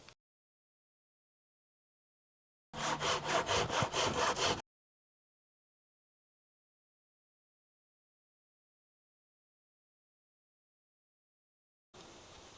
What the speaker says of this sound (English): go ahead and cut off the other end and give yourself some practice